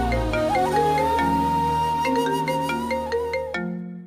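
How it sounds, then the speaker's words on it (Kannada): Mobile phone ringtone of an incoming call, a loud melodic electronic tune with sustained tones and quick accented notes, playing alone close by before cutting off abruptly. "ಎಸ್ ಐ ಅವ್ರು ಫೋನ್ ಮಾಡ್ತಾ ಇದ್ದಾರಲ್ಲ"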